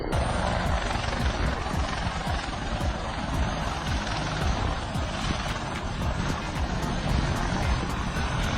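A military helicopter during a hard landing, with a loud, steady roar of engine and rotor wash and fast rhythmic rotor blade chopping throughout, close and continuous.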